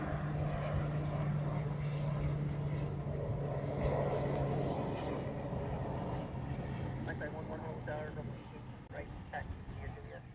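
Pilatus PC-12 turboprop airplane at Honolulu airport, a steady droning propeller hum with a low engine tone that slowly fades, heard over continuous talk.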